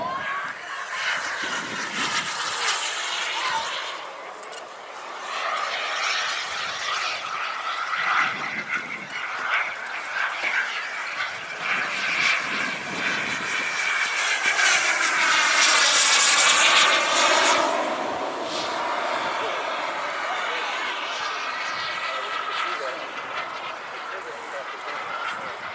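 A Rafale jet flies a gear-down pass at a July 4th airshow, a steady roar that swells and fades as it goes by, with an announcer talking over a public address throughout.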